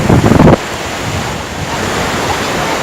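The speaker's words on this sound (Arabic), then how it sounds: "ما أحلى صوت البحر" Steady wash of sea surf with wind buffeting the microphone, a louder gusty burst at the start, then continuous broadband rushing.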